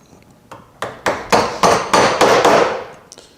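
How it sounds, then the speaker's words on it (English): A quarter-inch chisel is struck about eight times with a mallet, driving it at an angle into the corner of a hand-cut wooden dovetail; the sharp, close knocks get louder and quicker as it goes in. "I just hold it at an angle, and I'll drive it down into the corner a bit"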